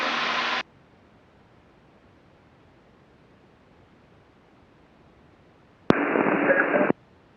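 Two bursts of hissy static from an aviation radio frame a weak, barely readable transmission, each cutting in abruptly, with near silence between them.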